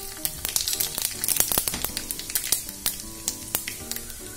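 Cumin seeds and bay leaves hit hot oil, a close crackling sizzle full of sharp pops and spits, with a few utensil clinks and scrapes in between and no talking.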